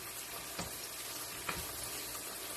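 Onions starting to cook in a large pan give a faint, steady sizzle with a couple of soft clinks or stirs, no voices.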